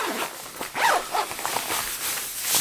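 A waterproof zipper on an OV Tushar rain jacket is pulled in a few quick, raspy strokes, close and crisp, with short pauses between pulls.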